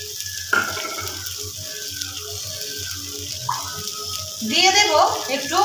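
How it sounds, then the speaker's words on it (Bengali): Water is poured into a hot pan of spiced aloo dum (potato curry), a soft sizzle under a quiet voice that swells into a louder hiss and splash near the end. "তো এখন আমি অল্প একটুখানি জল দিয়ে দিলাম"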